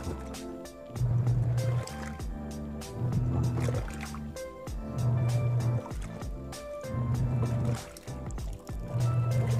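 Fully automatic washing machine washing laundry: rhythmic swishing and sloshing of water with a low motor hum that pulses in regular cycles, fairly close and continuous.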